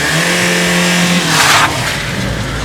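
A car engine revs loudly and close, rising in a short burst and then settling, with no voices.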